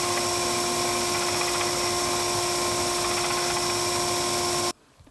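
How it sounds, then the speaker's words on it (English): A power sander works a wooden truck cab roof for a 1929 Ford stake bed toy model, a steady, close, high-pitched whine that runs continuously and then cuts off abruptly near the end. "I'm just going to very carefully on the sander here sand off that front end"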